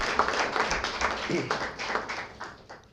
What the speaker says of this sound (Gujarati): ખૂબ તાળીથી આપણે એમનું અભિવાદન કરીશું.